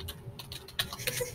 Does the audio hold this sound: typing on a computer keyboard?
yes